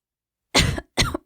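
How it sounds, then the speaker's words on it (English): A woman coughing and clearing her throat, two sharp, close coughs in quick succession against silence. "coughed again, smacking her hand at her throat as if to help clear the airways"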